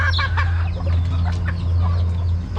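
A brooding hen clucks on a small farm in a series of close, throaty calls over a steady low electrical hum, with no talking.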